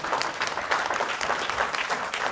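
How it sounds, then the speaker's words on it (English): A seminar audience claps in a dense, steady round of applause that fills the room from start to finish with no break. "Let's hear a round of applause for everybody here."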